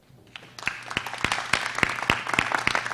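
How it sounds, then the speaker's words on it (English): An audience at a town planning board meeting in East Hampton breaks into applause, scattered claps building quickly into a steady, moderately loud round of clapping in a meeting room. "I'm going to ask if we could hold our applause."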